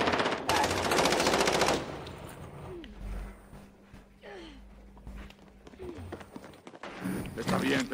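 Rapid automatic machine-gun fire in Call of Duty Warzone, a dense burst of shots at the start and another near the end, with players talking over the gunfire between the bursts.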